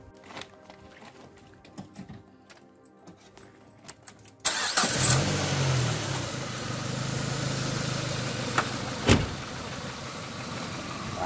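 A Peugeot 206CC cranks and fires up after a few seconds of quiet, then settles into a steady, close idle rumble with a brief rev bump near the end.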